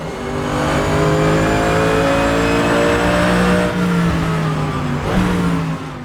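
A car engine in the racing game Assetto Corsa revs hard and steady, close and loud, rising through the gears with brief dips at shifts, heard through Rig 900s headphones.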